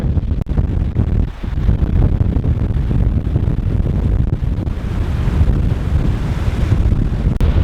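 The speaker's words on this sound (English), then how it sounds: "This wind is insane." Strong wind buffets the microphone on a hiking trail near Clark, Wyoming, toward Bridal Veil Falls, a constant loud roaring rush with gusty swells and no voices.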